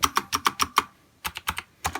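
Typing on an Azio Retro Classic keyboard with backlit, clacky keys: a quick run of six crisp keystrokes, a brief pause, then several more close, sharp clacks.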